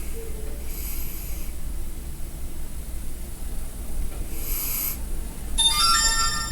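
A phone notification pings near the end, a short bright tonal chime over steady low background hiss, after fainter tonal blips earlier.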